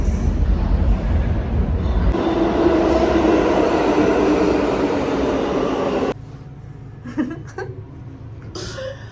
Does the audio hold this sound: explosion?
no